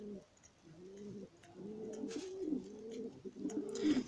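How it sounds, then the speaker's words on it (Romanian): Up close, a pigeon gives soft, low, rolling coos, repeated several times in a steady rhythm. The calls are quiet against a faint background, with no one speaking. "Porumbiță sau porumbel?"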